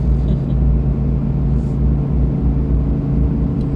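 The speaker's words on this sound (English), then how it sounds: "Driving a Dodge Ram with this Hemi in it." A Dodge Ram Hemi pickup towing a 35-foot fifth wheel trailer rumbles along a mountain road at night, a steady loud low engine and road drone heard from inside the cab.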